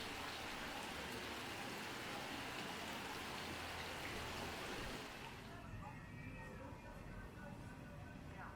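A heavy downpour at the first real rain of the season, a dense, steady roar of rain hammering surfaces close by, continuous throughout with a slight drop in brightness toward the end.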